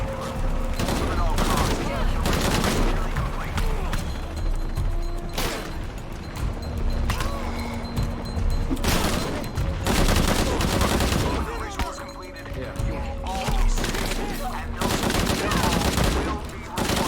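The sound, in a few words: AK rifle gunfire in video game Shadow of the Tomb Raider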